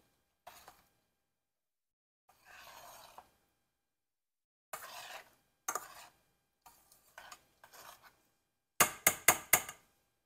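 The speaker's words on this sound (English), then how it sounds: "mix it in a little bit" Spoon or utensil clinking and scraping in a pot while food is mixed, heard as scattered short bursts of knocks and scrapes with pauses between, ending in a quick run of sharp metallic taps.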